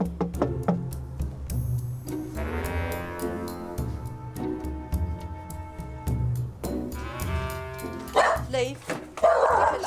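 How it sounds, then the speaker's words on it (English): Several dogs barking and yipping in a dog minder's home, sharp repeated barks near and loud, mixed with people talking over them throughout. "43-year-old dog minder Linda shares her home with her son and up to 10 dogs at a time."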